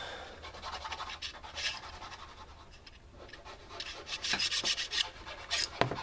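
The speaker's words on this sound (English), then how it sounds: "If you file and it heats up, you could end up kind of bending it." Someone files a magnesium shaft for a small Nerf bullpup blaster, making steady close rasping strokes that scrape back and forth in an uneven rhythm, quiet and with no one speaking.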